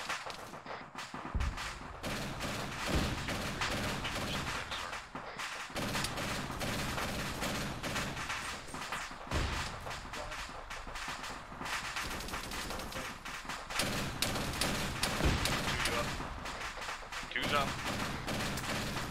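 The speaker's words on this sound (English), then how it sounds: "Just fucking light up that whole goddamn area with the gun." Sustained bursts of heavy mounted-gun fire in an ArmA 3 Vietnam-era MACV-SOG battle, dense repeated volleys with thuds and distant shots layered over a constant roar, with occasional voices beneath.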